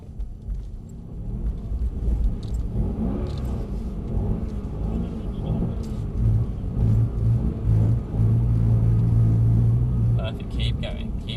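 A Mercedes C63s AMG on a track at Mercedes-Benz World, its engine held under throttle with a steady, loud rumble and a droning tone that rises near the end, under continuous instructional talk.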